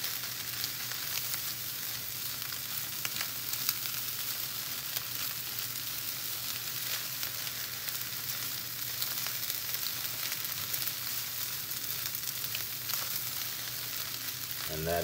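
Cauliflower fried rice with chicken and green onions sizzles steadily in a pan while being stirred, a constant close frying hiss with occasional soft scraping ticks and no talking.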